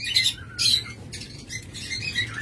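A pair of yellow Fischer's lovebirds squawks in harsh, high bursts close by, several shrill calls coming in quick irregular succession over a low background hum.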